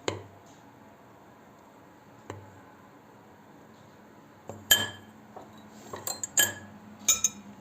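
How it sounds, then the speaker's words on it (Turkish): A whisk mixes flour into melted butter in a bowl for hamburger bun dough, making quiet, sparse metallic clinks against the bowl that cluster into quicker taps toward the end. "Erittiğimiz bir yemek kaşığı tereyağımızı ilave ediyoruz üzerine. Ve kontrollü bir şekilde unumuzu ekleyip çırpıyoruz."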